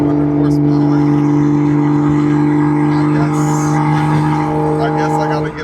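BMW M340i with its B58 engine pulling under acceleration from inside the cabin, a loud steady engine drone with strong low harmonics throughout, rising slightly, and a voice speaking over it.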